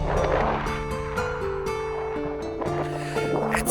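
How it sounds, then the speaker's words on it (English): Strong wind roars across Chandratal Lake in Spiti Valley on a freezing late-season day, a loud, constant broadband rush with faint whistling tones running through it and no voices. "It's extremely windy."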